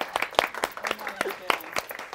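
A small audience claps for returning runners at an International Women's Day 2020 event, with sparse, uneven claps near the listener mixed with cheering and talk.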